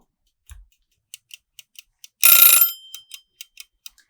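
A kitchen timer ticks in sharp, evenly spaced clicks, then rings out in a loud half-second metallic burst before the ticking resumes, heard alone while cooking sweets.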